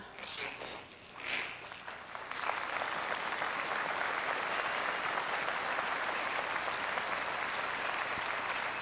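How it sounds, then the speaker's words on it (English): An arena crowd at a 1996 curling Skins Game championship final breaks into sustained, even applause for a player about to throw her first stone, preceded by a couple of seconds of quieter murmur and scattered sounds. "Very appreciative crowd as they applaud Heather Houston prior to her first stone"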